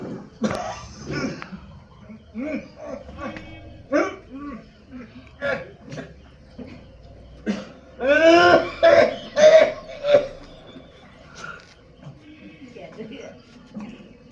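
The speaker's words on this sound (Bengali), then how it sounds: "তুমি তো ডাক্তার কারেক্ট এই তুমি সারা তোমার কাশিটা সারাতে পারছো না" Several bursts of coughing and throat clearing mixed in with conversation during a stage play, with a loud cluster of hacking coughs partway through.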